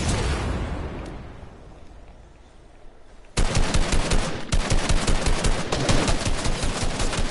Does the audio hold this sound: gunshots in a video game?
yes